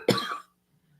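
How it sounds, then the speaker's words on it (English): A woman gives a single sharp cough up close, a brief burst that dies away within half a second into near silence. "Sorry, I keep coughing, guys."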